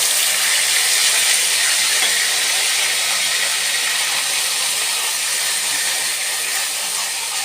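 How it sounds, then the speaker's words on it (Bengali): Ground spice paste hits hot oil in a kadai already holding dried chillies, bay leaves and panch phoron for dhokar dalna. A loud, steady, close sizzling hiss holds for the whole stretch, with no talking. "এবার যে মশলাটা বেটে রেখেছিলাম ওটা দিয়ে দেব।"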